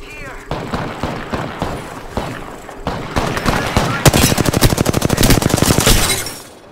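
Gunfire in Apex Legends, scattered single shots giving way to dense rapid automatic bursts, loud and close, with a voice speaking over the early part.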